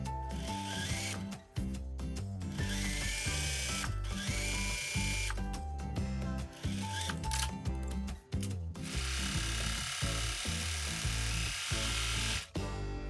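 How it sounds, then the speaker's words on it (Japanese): A sewing machine stitches a sleeve cap seam with a 1 cm seam allowance, running in loud steady mechanical bursts with brief pauses between runs. "ピンで留めたら、この袖山を縫い代1センチで縫っていきます"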